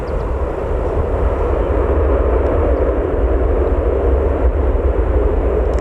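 A Jet2.com airliner at Newcastle Airport rumbles steadily in the distance, a broad, even engine roar that holds constant without breaks or voices.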